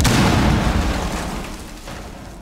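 A grenade detonating in Rainbow Six Siege, a single loud close boom that rumbles and slowly decays over a couple of seconds.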